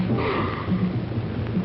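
A man sniffs flowers in the 1960 film Last Woman on Earth, making a few close, breathy sniffs and snorts in a short burst.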